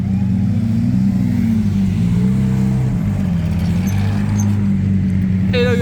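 A luxury supercar drives along a street in Cannes with a loud, close, low engine drone whose pitch slides up and down as it rolls past.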